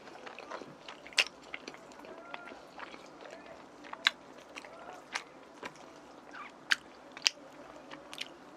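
Close, wet chewing and crunchy bites of rosé tteokbokki made with wheat rice cakes, bacon and cheese, irregular mouth clicks and crunches over a quiet background.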